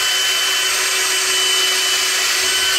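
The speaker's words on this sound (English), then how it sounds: "Cordless drill, there's a modern item." A cordless drill runs steadily, driving a screw to fasten an organ part from an 1865 Forster & Andrews organ down to a board; the whine is loud and continuous, with no talking.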